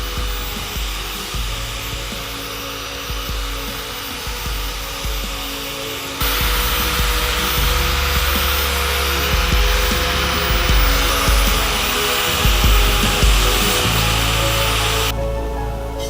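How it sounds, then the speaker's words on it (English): Handheld sander smoothing a punched hole in a straight razor blade, a steady high-pitched motor whine with grinding contact noise that grows louder midway and runs continuously, close by. "I'm going to use a handheld sander, take my time, and clean it up all the way through the grits."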